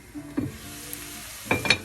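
Chow-chow thoran cooking in an uncovered pot, with soft sizzling under a couple of short bursts of stirring and scraping near the start and the end.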